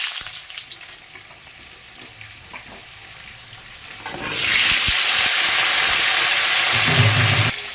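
Potato pieces dropped into hot oil tempered with cumin in a wok burst into a loud, steady sizzle after a quieter stretch of softer kitchen noise, the hiss holding strong to the end.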